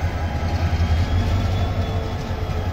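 The Bhawal Express train at Mymensingh station gives off a steady low rumble and rolling noise close by on a foggy day, continuous with no voices.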